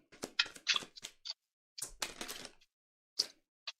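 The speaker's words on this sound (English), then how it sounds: "these cards are like absolutely the worst to shuffle" Tarot cards are shuffled in irregular bursts of crisp flicking and slapping, close and clear, with silent gaps between clusters and no talking.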